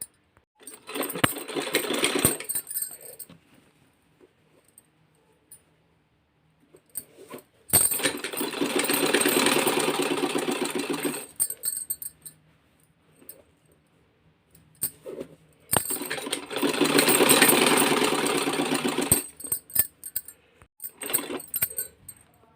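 A sewing machine stitches folded underwear fabric in three long whirring runs, close and steady, separated by quiet pauses with small handling clicks.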